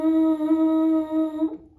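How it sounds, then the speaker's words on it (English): Lips buzz into a French horn mouthpiece alone, holding one steady, reedy tone for about a second and a half before it breaks off, close and clear with no talk. "we're going to buzz into the mouthpiece"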